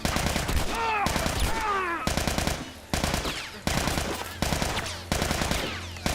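Rapid bursts of automatic gunfire in The Last of Us, loud and close, dense rattling volleys with short gaps between them and a whistling tone early on.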